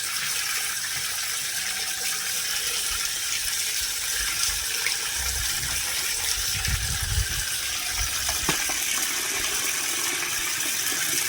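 Water pours steadily over raw chicken being washed for a Kerala-style Malabar chicken biriyani, a continuous close gushing and splashing with no talk.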